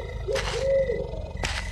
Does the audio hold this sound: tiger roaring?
yes